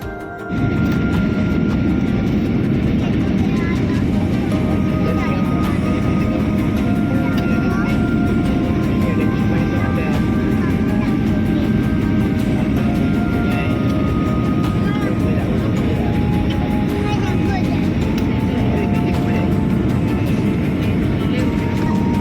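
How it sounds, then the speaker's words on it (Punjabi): Steady, loud low-frequency roar of an airliner cabin as the plane descends toward landing at Changi Airport in Singapore, continuous throughout with someone speaking over it. "ਥੋੜੇ ਸਮੇਂ ਦੇ ਵਿੱਚ ਹੁਣ ਆਪਾਂ ਲੈਂਡ ਕਰਨ ਵਾਲੇ ਆ"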